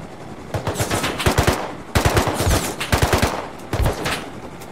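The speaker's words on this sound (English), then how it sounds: "They're firing at us." Close, loud machine-gun fire from a video game comes in three rapid bursts of distinct rhythmic shots, each lasting about a second, with brief pauses between them.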